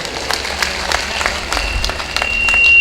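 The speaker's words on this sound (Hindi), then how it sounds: "मैं चाहता हूं ये सदन एक बार तरुण फाउंडेशन और तरुण राठी जी को बधाई देने के लिए जोरदार तालियों से।" Audience clapping at a Hindi poetry recital, a steady rolling applause from a crowded hall that swells louder toward the end.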